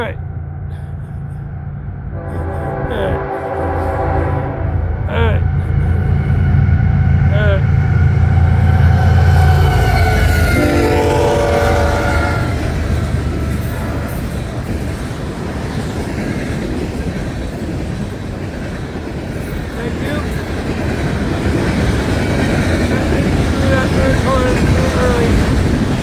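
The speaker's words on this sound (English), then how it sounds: "Nice looking train." A train rolls past nearby, a loud continuous rumble with rattling wheels and clicking over the rails that swells and lingers for the whole stretch, with a voice briefly over it.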